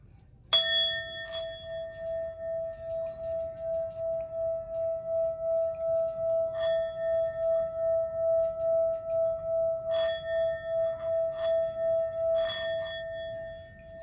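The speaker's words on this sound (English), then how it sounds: "sound bowl clearing is done" Singing bowl struck once for energy clearing, a single bright ring with a long sustained shimmering tone that pulses gently as it is kept sounding, fairly faint and alone.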